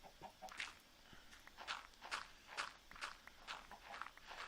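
Video game chicken clucks mixed with a steady run of soft footsteps, repeated bright clucking bursts over the quiet walking rhythm, faint overall and without talk.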